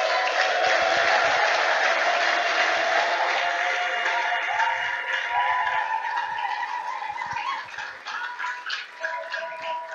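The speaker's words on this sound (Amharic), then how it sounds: "እስቲ በሁለት እጃችሁ ለጌታ አጨብጭቡለት" A church congregation claps for the Lord with both hands, a dense sustained applause that fades slightly toward the end, heard from the middle of a large crowd.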